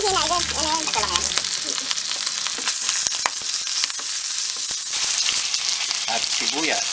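Garlic fries in a hot pan with a loud, dense sizzle and sharp crackles, stirred now and then, while someone talks briefly at the start and again near the end.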